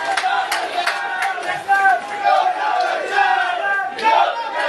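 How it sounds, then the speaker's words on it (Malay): A crowd at an UMNO party gathering with the president present roars and cheers, voices rising and falling in loud surging waves, shouting dominating over any clapping, close and energetic throughout. "Kita berikan tepukan yang lebih gemuruh kepada Yang Amat Berhormat Presiden UMNO"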